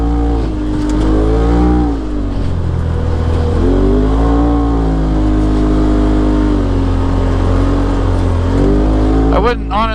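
A Polaris RZR XP Turbo side-by-side drives hard on a rough winter forest trail, its engine loud and close with rising and falling revs as it accelerates throughout.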